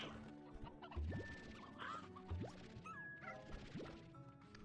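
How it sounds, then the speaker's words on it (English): Chickens clucking in the video game Slime Rancher 2, several birds giving short squawks and chirps over a busy game soundtrack with layered tones and occasional thuds. "You guys can have some of these chickens."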